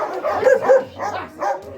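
A dog yips and barks in a few short bursts during a handling session where food is offered from a stranger's hand, close and fairly loud, with someone talking over it.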